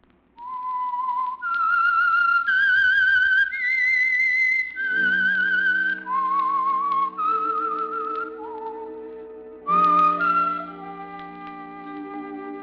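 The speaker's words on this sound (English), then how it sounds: "That whistle is your signal" A lone whistler carries a slow, sustained melodic theme, notes stepping up and down, clear and close with little else behind it; the signature theme of the 1946 radio program The Whistler.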